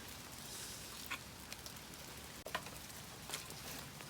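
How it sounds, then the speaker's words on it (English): Steady rain patters on a campsite while a campfire is being built, a soft continuous hiss with scattered faint drip ticks, no voices. "we're just going to start making this fire because the rain's starting to pick up"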